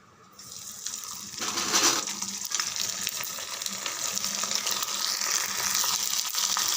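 Vatthal, sun-dried crisps, fry in hot oil. A steady, bright sizzling hiss starts quietly and swells within the first two seconds, then holds at an even, close level with faint crackles and no talking.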